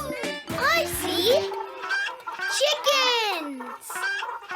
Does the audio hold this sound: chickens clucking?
yes